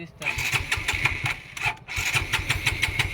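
A motorbike out of fuel fails to start: repeated cranking bursts with a steady whine, each attempt sputtering without catching, close by, with voices talking over it.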